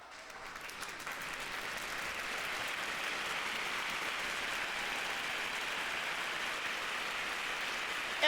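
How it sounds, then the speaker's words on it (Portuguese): Sustained applause from a church congregation, a steady dense wash of many hands clapping at moderate level throughout, with no voices standing out. "Se você está certo disso,"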